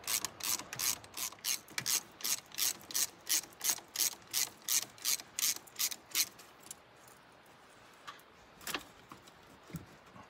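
A hand ratchet loosening bolts on a diesel truck's charge air cooler tube, with about sixteen rapid, evenly spaced clicking strokes close by, then a few isolated clicks and quiet handling.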